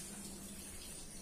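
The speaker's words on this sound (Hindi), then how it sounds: "घर सफाई करते करते वहां पे पानी भी आ गया है, देखिए गिर रहा है पानी।" Water pours and splashes steadily from a tap or pipe inside a house during cleaning, a constant broadband hiss that stays even and close throughout.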